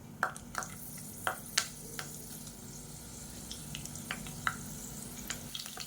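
Fennel seeds and curry leaves frying in hot sesame oil in a cooker, a steady soft sizzle with scattered sharp pops and crackles, close and alone with no talk.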